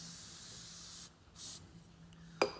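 Short hissing spray bursts of lubricant onto a milking parlour automatic cluster remover, one long steady spray followed by a brief puff and a sharp click, close and fairly quiet.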